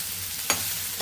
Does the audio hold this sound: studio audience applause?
no